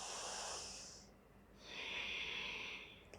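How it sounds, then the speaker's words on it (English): A deep breathing exercise during a yoga routine, with two long, airy breaths. A strong hissing inhale is followed after a short pause by a slow, sustained exhale, quiet and close. "practice this deep breathing at least 5 times"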